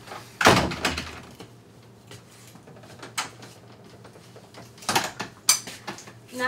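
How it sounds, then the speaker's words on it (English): A house door is pushed shut in several loud thuds and bangs, each standing out sharply above a quiet room. "Should I close the door?"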